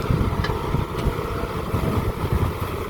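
A Kubota M-6240 tractor engine runs steadily while ploughing a field, a low rumbling drone with a continuous chugging texture and no talk.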